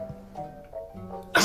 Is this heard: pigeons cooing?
no